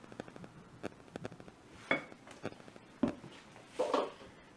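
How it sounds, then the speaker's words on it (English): Spoon scraping and tapping against a bowl while homemade mayo and ranch dressing made with vinegar, paprika and pepper is stirred, a run of soft, irregular clinks close by with no talk. "I'm going to mix it up a little bit."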